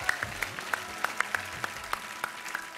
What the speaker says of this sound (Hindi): इन बच्चों के लिए वाकई जोर से तालियां होनी चाहिए।